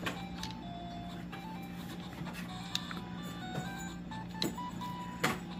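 Kudzu game audio plays from a Game Boy Color: a steady layer of bright electronic tones with short beeping blips scattered throughout, fairly quiet and without speech.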